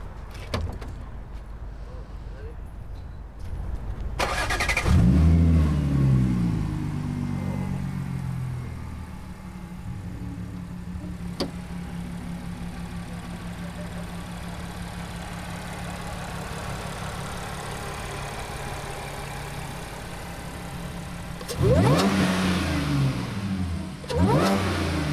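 A heavy car with a 3.0 supercharged engine fitted with dual pulleys fires up and revs hard. It settles into a long, steady idle hum, then snaps through a few more sharp revs near the end.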